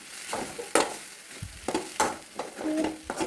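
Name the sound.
stirring spinach thoran in a pan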